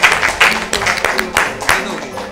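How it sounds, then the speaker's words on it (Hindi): Audience clapping for a contestant on a televised quiz show, a short burst of dense hand claps at close range that fills the whole moment with a few louder peaks. "जोरदार तालियां सर के लिए"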